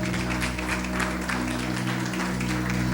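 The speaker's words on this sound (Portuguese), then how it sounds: "Vamos aplaudir esse Jesus nessa noite." A church congregation applauding during an evening service, a soft, steady spread of clapping under a constant low hum from the sound system.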